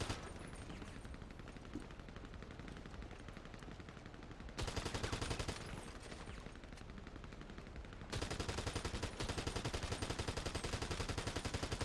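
Rapid automatic gunfire in GTA V NoPixel roleplay, dense continuous bursts filling the clip, loud and close, with brief shifts in intensity between bursts.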